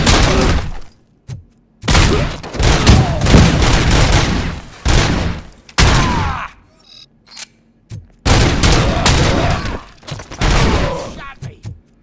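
Gunfire in the video game RoboCop: Rogue City, loud rapid bursts of shots and impacts in several long volleys with short gaps, with shouted voices in between.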